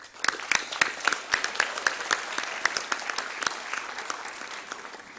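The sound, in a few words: audience applause for parents and families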